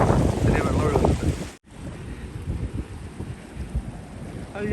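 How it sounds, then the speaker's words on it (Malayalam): Strong wind buffets the microphone on the Slieve League cliff top in Donegal, a loud rushing roar with gusts throughout, briefly cut by a dropout, while a voice talks under it at the start. "അയ്യോ, നല്ല കാറ്റാണല്ലോ"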